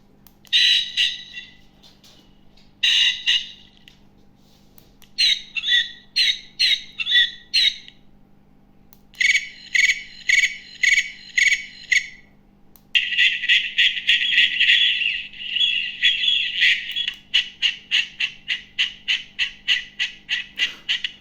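A DOBE DB600 dog collar beeper plays loud electronic bird-like calls, including hawk and eagle imitations. Bursts of harsh chirps are separated by short gaps, then comes a sustained buzzing call and a rapid pulsing trill, close up with no talk.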